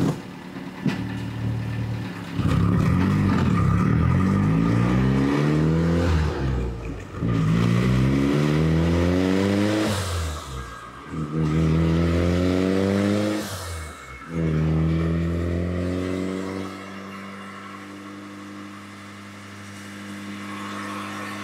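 A turbocharged Saturn engine revs hard on a dyno in fourth gear, its loud rising howl climbing through three long pulls with brief lifts between them, then easing down to a lower drone at the end.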